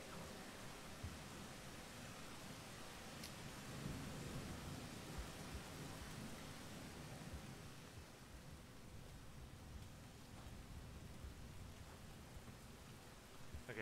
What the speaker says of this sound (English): Though it would help if it isn't raining so hard.